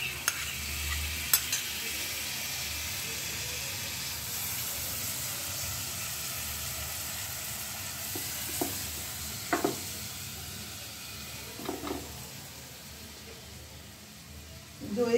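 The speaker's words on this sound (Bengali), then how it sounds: "এবার দিয়ে দিচ্ছি এই বড় চামচে 3 চামচ মতো টক দই" Whisked sour yogurt sizzling in a hot kadai for dhaba-style palak paneer, a soft, steady frying hiss with occasional scraping stirs and clinks of a large spoon.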